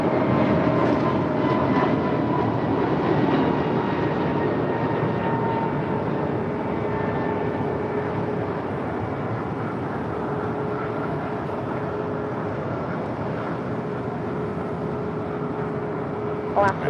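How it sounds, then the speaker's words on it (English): A Boeing Dreamliner taxis across taxiway Lima, its low engine rumble and faint tonal whine fading slightly over time, with a radio voice speaking over it. "The Dreamliner now crossing over Lima"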